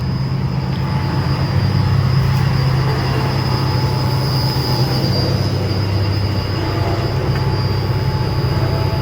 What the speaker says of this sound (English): now all of a sudden the fan is speeding up.